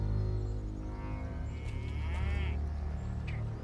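A cow on the roof of an old cotton house in the video game South of Midnight gives a long, low moo, steady and close over a background music drone.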